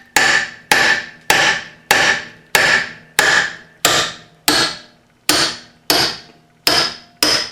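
Steady, evenly spaced blows of a dead blow hammer on a chisel used as a wedge in a Thunderbolt A2-4M siren blower, about eleven loud close knocks with no talk.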